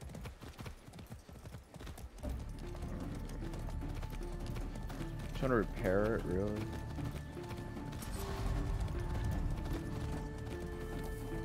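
Rhythmic clip-clop of galloping hooves in Far Cry 6, steady and fairly close, with a brief whinny midway and someone talking over it.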